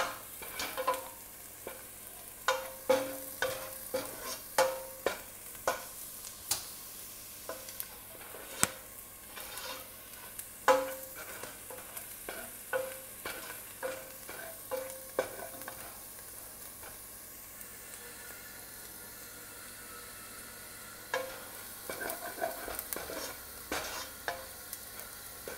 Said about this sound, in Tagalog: Halo lang po ng halo. Hanggang maging totally brown na siya.